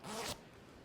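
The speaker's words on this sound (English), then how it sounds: "I really love the zipper on all of the Paradise clothes." A quick, smooth zip of a zipper on a Paradise garment, one close swipe lasting about a third of a second, with a faint rustle afterward.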